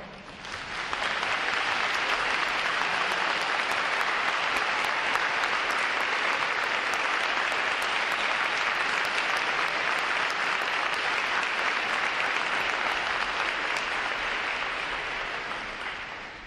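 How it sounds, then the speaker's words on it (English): Audience applause honouring veterans at a U.S. Navy recruit training graduation ceremony: a large crowd's sustained, dense clapping rises quickly, holds loud and even for many seconds, then tapers slightly at the end. "give them a round of applause"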